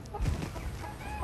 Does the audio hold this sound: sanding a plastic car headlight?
no